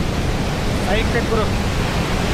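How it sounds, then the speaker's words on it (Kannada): Devakara waterfall roars as a steady, loud wash of broadband noise close by, with a voice briefly audible under it. "boys this is ದೇವಕರ falls"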